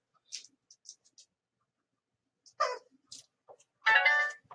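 A phone sounds a short, bright notification chime near the end to announce a new email, after a few faint scattered clicks in otherwise near silence.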